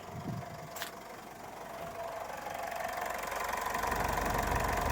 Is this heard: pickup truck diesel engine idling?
yes